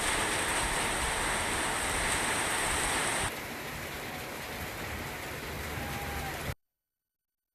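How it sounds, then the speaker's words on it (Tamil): Heavy thunderstorm downpour over the Madurantakam area, a dense, steady roar of rain hitting surfaces that holds loud for several seconds, drops slightly in level midway, then cuts off abruptly. "மதுராந்தகம் சுற்று வட்டாரங்களில் 1 மணி நேரத்திற்கும் மேலாக இடியுடன் கூடிய கனமழை கொட்டியது"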